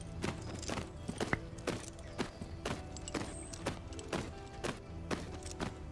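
Hooves of a horse in the riding game Tales of Rein Ravine plod at a slow walk, evenly spaced clip-clops close up over a soft ambient bed, with no talking.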